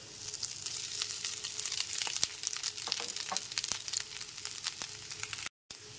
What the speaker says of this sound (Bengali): এরপর লবণ আর চিনি মাখানো যে চিড়েটা সেটা দিয়ে দিলাম।